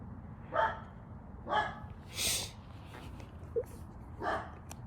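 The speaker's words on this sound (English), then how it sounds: "That dog messing up my video." A dog barks several times at a distance outdoors, short spaced yips and bow-wows spread across a few seconds over steady low background noise, with no speech.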